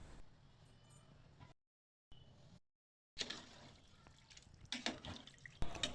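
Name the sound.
water poured into pot for rice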